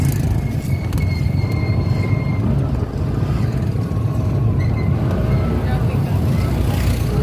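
Road traffic on a countryside road in the Philippines, a steady rumble of passing vehicles and engine noise heard from inside a moving vehicle, with people talking over it.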